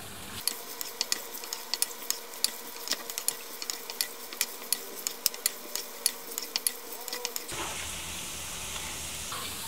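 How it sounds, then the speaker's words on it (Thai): Pork belly frying in clear oil over medium heat while being stirred continuously, a steady close sizzle punctuated by frequent sharp pops and utensil clicks, then a softer hiss at the end. "ทอดต่อไปเรื่อยๆครับคนไปเรื่อยๆห้ามหยุด"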